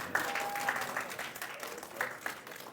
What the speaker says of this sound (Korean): 좀 전에 여러분의 박수는 어느 쪽이었을까요?